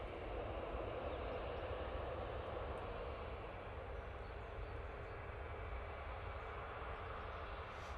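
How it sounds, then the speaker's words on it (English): An EasyJet airliner bound for Athens takes off from an intersection at Manchester Airport, producing a continuous, dense jet roar that stays strong and even throughout. "So this EasyJet's now taking the intersection. Going off to Athens."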